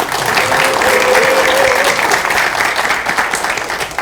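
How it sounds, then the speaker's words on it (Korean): Loud, dense applause from a crowd at a Democratic Party budget policy meeting in South Chungcheong Province, sustained and close with some cheering mixed in, and a brief voice audible over it. "큰 박수와 함성까지 부탁드리면 어떨까요?"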